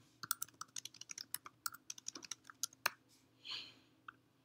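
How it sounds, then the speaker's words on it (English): Typing on a computer keyboard produces a quick, uneven run of crisp key clicks, close and clear, followed by a short soft swish and one last click. "then just click and begin typing"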